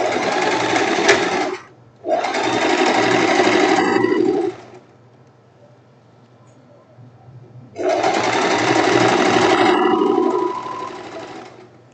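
A sewing machine stitches the side seams of a silk top in two long, loud runs separated by a short pause, then stops for a few seconds of quiet before a third run.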